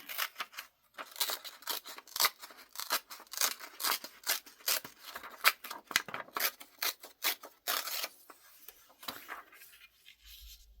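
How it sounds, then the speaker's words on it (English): Paper for a junk journal is torn by hand in a quick series of short, crisp ripping bursts that come close and dense for most of the stretch, then slow to a few fainter tears. "I'll just go ahead and tear this side."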